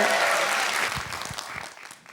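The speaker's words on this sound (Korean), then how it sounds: "여러분 다시 한번 큰 박수 부탁드립니다." A concert audience at a Korean talk-concert stage show applauds for a rapper, loud dense clapping at first that thins out and fades over a couple of seconds.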